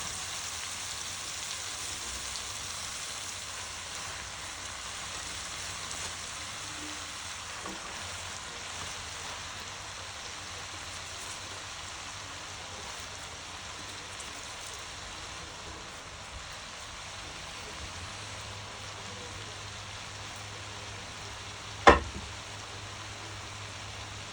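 Chicken chop suey sizzling steadily in a hot pan, a continuous hiss with one sharp clack of a utensil near the end.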